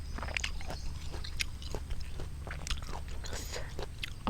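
Crunchy mixed pickled fruit, grapes among them, chewed close to the mic in quick repeated crisp bites, set in a rubber plantation, with no talking.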